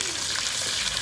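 Finely chopped onion hitting a cup of hot desi ghee, giving a steady, loud hiss of frying that holds evenly through the moment with no break.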